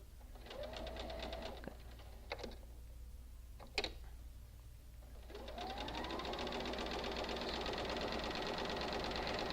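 A sewing machine chain piecing quilt block pieces runs steadily and close, starting briefly, pausing with a few clicks, then stitching continuously through the second half at an even, rapid rhythm.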